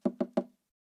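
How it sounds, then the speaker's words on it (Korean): Three quick, sharp knocks rap on a guardhouse window at a military post, evenly spaced and close, followed by silence. "다시금 위병소 쪽 창문을 두드리는 소리에 정신이 번쩍 들어서"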